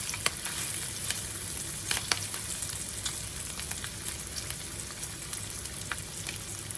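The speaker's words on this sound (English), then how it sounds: "I was going to sit here and crochet while my bacon is cooking" Bacon fries in a pan, giving a steady close sizzle with scattered sharp pops and crackles and no talking.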